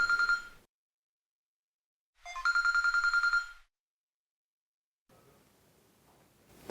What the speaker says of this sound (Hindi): सत्तशा को फोन करना था।